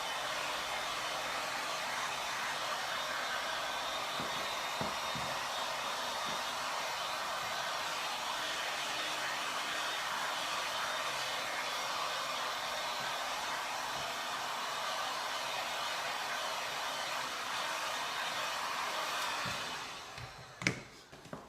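A heat gun blows hot air onto the fabric seat cover of a Kawasaki ZZR600 motorcycle, producing a steady, close blowing whoosh for about twenty seconds that stops near the end with a few handling knocks.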